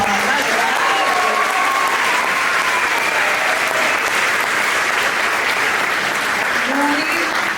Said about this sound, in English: You can give them a huge round of applause.